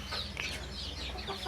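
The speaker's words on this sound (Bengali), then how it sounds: "স্ক্রিনে যে মুরগিগুলো দেখা যাচ্ছে এগুলো ফার্মি মুরগি" Fayoumi chickens on a farm cluck softly and repeatedly, a close cluster of short chattering calls over low steady background noise, with no talking.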